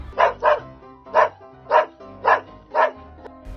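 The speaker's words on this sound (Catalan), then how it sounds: "El gos va bordar." A dog barks six times in a loud, close series of sharp woofs. The first two come as a quick pair, and the rest are evenly spaced with short pauses between them.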